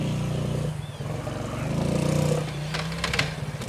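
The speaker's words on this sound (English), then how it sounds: "She's actually switching. I think she got up to third gear." A vehicle engine, likely a motorcycle, drones and revs while its rider shifts up through the gears, with a brief dip, a rising surge, and some rattling clatter.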